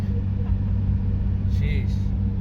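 A Nissan 350Z held at full throttle in second gear while stuck in limp mode gives a low, steady engine drone that stays flat and never climbs, heard up close.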